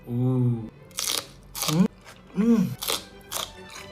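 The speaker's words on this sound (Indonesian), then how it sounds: "Sensasi nugget yang kriuk-kriuk, ada pedes-pedesnya." Crispy fried chicken nugget dipped in spicy chili sambal being bitten and chewed close up, with several crunchy bites between bursts of a person talking.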